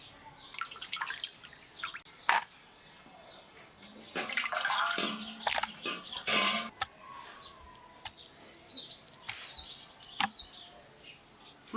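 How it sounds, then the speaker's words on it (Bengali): Pieces of mutton are washed in water in bursts of splashing, dripping and sloshing handled up close, with bird calls in the background and no speech. "মাংসটা ধুয়ে পরিষ্কার করে নিলাম"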